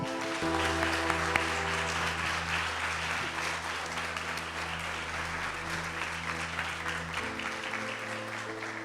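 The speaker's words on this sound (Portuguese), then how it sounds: "Vamos aplaudir o Senhor?" Church congregation applause during a Portuguese-language regional conference service, a dense steady wash of clapping running throughout, with sustained organ or keyboard chords held underneath.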